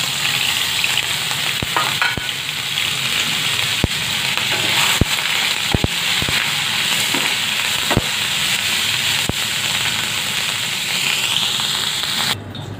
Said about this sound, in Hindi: अब मैं अपने पनीर को थोड़ा सा इसमें भून लूँगी।